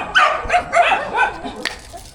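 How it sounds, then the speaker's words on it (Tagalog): Dogs outdoors let out a quick run of sharp, close barks: about five loud yelps in rapid succession, followed by a brief, quieter yip. "Ingay ng mga aso."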